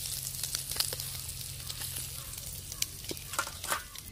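Small fish frying in hot oil in a village kitchen, a steady crackling sizzle with scattered pops and stirring clicks, close and continuous.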